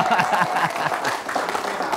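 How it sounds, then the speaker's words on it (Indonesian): Brief clapping from a gathering of the Keluarga Besar Serumpun Melayu, with scattered claps mixed under an energetic voice talking over them. "Ya, tepuk tangan."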